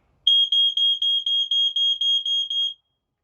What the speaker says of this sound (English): Now, the alarms will sound like this, coming from FireX.